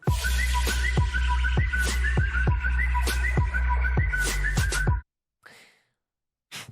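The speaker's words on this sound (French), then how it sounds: "T'as sifflé?" Close, loud whistling of a quick repeated melody with sharp rhythmic accents over a steady low backing, ending abruptly, followed by a couple of brief faint sounds after a pause.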